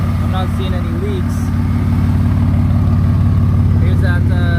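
A twin turbo V6 Mustang idles close by with a steady, low, even engine rumble throughout, fairly loud, with faint background sounds over it.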